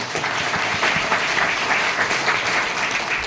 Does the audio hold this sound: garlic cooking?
no